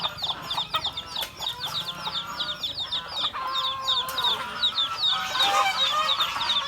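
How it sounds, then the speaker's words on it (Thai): Domestic village chickens and bantams cluck in a rapid, repeated series of sharp calls close by, with more birds joining in and a rising, busier chorus toward the end. "ไก่บ้านมีไก่แจ้ด้วยนะครับผม"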